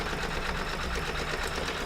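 An embroidery sewing machine stitches a dense design at a steady, fast, continuous whirring rhythm, close and loud with no pauses and no talking.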